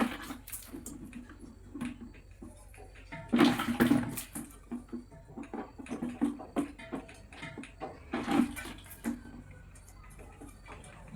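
Water splashes into a milking machine bucket as it is washed, with two louder pouring bursts standing out from a faint background of trickling and small knocks.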